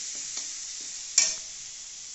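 Coriander powder stirred into masala frying for prawn malai curry: a bright, steady sizzle with a few light spatula scrapes and one sharp metallic clank against the pan, no voices.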